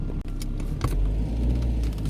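A Skoda car rumbles close by as it pulls away, a low engine drone with a brief thump and some faint clinks, short and steady.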